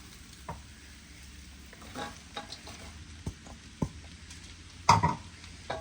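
Leeks stir-fry in a pan with cooked carrots and beans for chicken kothu parotta, giving a quiet sizzle broken by sharp scrapes and clanks of a utensil. The strokes come irregularly, with a louder clatter near the end.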